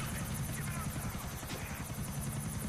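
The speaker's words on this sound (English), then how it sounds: "Damn, I got 5 stars just for flying a helicopter" A video game helicopter flies with its rotor chopping in a fast, steady pulse and a constant engine whine, holding an even loudness throughout.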